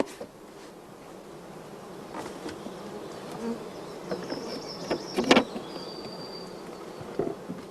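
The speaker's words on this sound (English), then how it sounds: "the bees are hived just like a natural swarm" Honey bees buzz as they are shaken into a hive, a soft continuous hum with a few louder individual bees passing close and brief whining tones rising over the drone.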